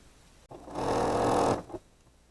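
A sewing machine runs in one continuous burst of about a second, stitching a quilt block seam at close range, starting and stopping abruptly in an otherwise quiet room.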